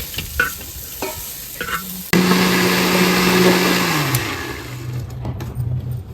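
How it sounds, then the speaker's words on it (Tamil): A kitchen mixer grinder whirs loudly for about two seconds, grinding a spice paste for an egg gravy, then winds down. A few clatters come before the motor starts. "இதை தனியா எடுத்துட்டு மிக்சியில போய் அரைக்கணும்"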